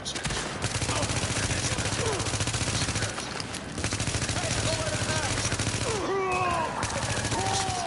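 Heavy automatic gunfire in The Division rattles almost without pause, dense machine-gun volleys with short gaps, close and loud, while voices talk and call out over the shooting.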